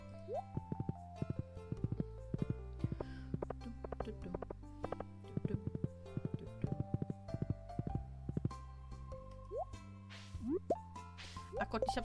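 Fishing by the sea in the video game Stardew Valley, with a steady run of short plopping and dripping game effects over a tonal music bed, fairly quiet throughout.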